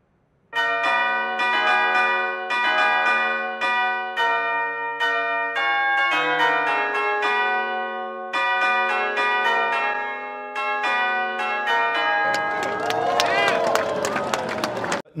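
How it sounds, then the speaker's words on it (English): Big Ben's last midday chime from the Westminster clock tower in London, large church-style bells sounding a slow, loud melodic sequence of resonant strokes with long ringing decays, then a heavier jumble of overlapping tones near the end. "let you listen to the entirety of this last midday chime"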